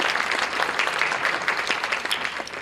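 Audience applause at a Republic Day cultural program, a lively, close round of clapping with distinct individual hand claps standing out in an uneven rhythm, sustained throughout without speech.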